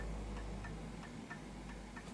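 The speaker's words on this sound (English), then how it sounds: "Now I can hear it ticking." An antique Enfield Westminster chimes clock from James Walker Ltd ticks steadily after its pendulum is started, a faint, even tick-tock repeating about every third of a second over a low background hum.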